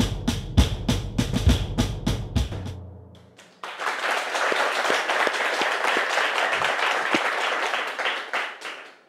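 Studio audience at a television programme, heard after a stretch of rhythmic music beats: a dense, sustained crowd applause swells in and holds steady, fairly close and loud, before easing off at the end.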